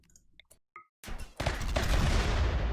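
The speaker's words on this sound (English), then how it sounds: "Oh, the laser shot now." Ship lasers firing in the Rimworld video game with the Save Our Ship 2 mod: a few sparse clicks and short tones, then a sudden loud broadband blast that swells into a sustained roaring barrage through to the end.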